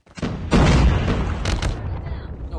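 A frag grenade explodes in a shooter video game, a loud, close, booming blast with a rumbling tail that fades over a couple of seconds.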